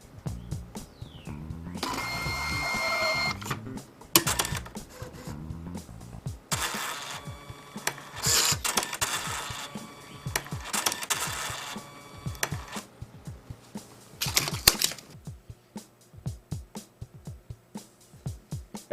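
A Catalina coupon printer at a store checkout runs a cleaning cycle, with bursts of whirring and mechanical chattering broken by quieter pauses and a series of sharp clicks and ticks, close and fairly faint.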